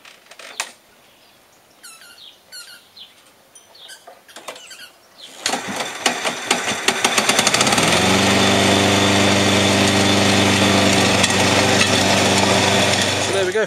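A repaired small lawnmower engine that had flooded sputters into life after a few quieter clanks and creaks, then settles into a loud steady running drone that continues to the end.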